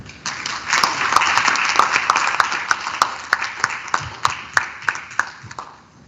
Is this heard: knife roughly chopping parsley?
no